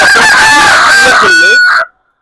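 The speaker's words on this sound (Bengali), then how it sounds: "এই মুরগিটা" Large laying hen of a fancy breed, clucking loudly and close, a drawn-out cackling call with a couple of rising notes that ends abruptly into silence.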